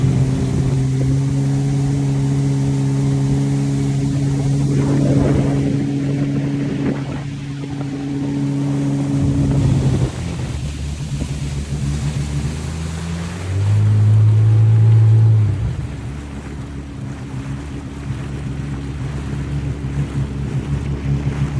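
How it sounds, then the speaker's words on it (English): A 2000 Sea-Doo GTX Bombardier personal watercraft engine runs loud and close, holding a steady buzzing idle, then shifting pitch and surging briefly before dropping back to a lower drone amid wind and water noise. "as soon as I hit start, it's gonna crank right up and we'll be ready to go."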